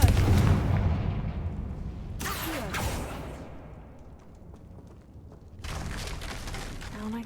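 A Confringo explosive spell cast in the Hogwarts Legacy video game, heard as a loud opening blast followed by two sharp cracking bursts that trail into a lingering rumble, with no talking over it.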